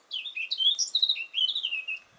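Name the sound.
small bird chirping above, outdoors by river meadow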